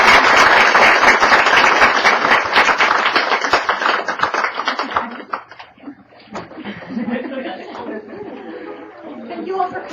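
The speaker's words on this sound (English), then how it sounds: "if we could give another round of applause" Audience applause at the end of a talk on translation and interpretation, loud sustained clapping for about five seconds that trails off into chatter and light laughter from the room.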